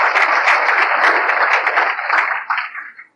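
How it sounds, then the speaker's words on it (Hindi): An audience at a Hindu devotional gathering bursts into loud, sustained applause, dense clapping that holds strong before tapering off and stopping near the end. "जोर की ताली, जोर की ताली, जोर की ताली।"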